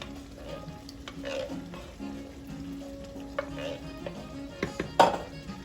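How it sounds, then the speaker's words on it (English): Tomato sauce with four cheeses poured into a hot pan, sizzling steadily with spoon stirring and a few clinks of cookware, a sharper scrape near the end. "Gonna add my tomato sauce, 4 cheese tomato sauce."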